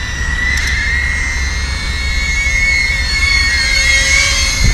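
Emax TinyHawk 2 FPV drone running on a 1S 1500mAh battery, its motors giving a steady high whine that wavers as it flies at near full throttle, continuous and fairly close.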